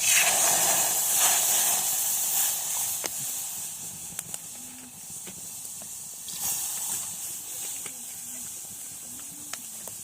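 Steady hiss of milk poured onto roasted fenugreek seeds in a hot pan, loud at first and easing off, with scattered small clicks and taps over the sizzle.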